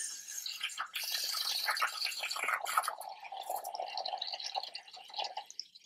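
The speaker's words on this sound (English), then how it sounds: "So we're just going to fill up our water bowl." Water poured into a small bowl inside a tarantula enclosure makes a close, continuous trickle and splash that shifts in pitch as the bowl fills, then continues as a softer, steady pour.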